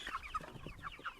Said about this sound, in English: Cornish crosses aren't the smartest chickens ever.